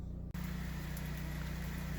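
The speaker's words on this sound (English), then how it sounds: "luckily we've got a Generac generator" A Generac generator runs steadily in the background during an ice storm, giving a continuous low hum with a constant drone after a brief dropout at the start, and no speech.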